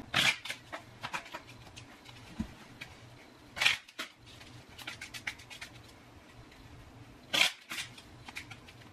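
Playing cards being shuffled by hand during a card reading, coming as soft riffling bursts, with three sharper snaps spaced through the clip and low room hum underneath.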